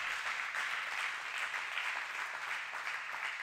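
A church congregation applauds and cheers God in a steady, dense wash of clapping that fills the room at even loudness throughout, with no voices standing out.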